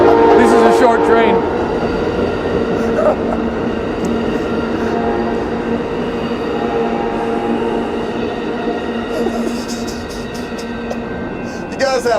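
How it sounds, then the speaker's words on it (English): A short train rumbles past steadily and loudly for several seconds, its wheels clattering and tonal squeals rising near the end. "this is a short train."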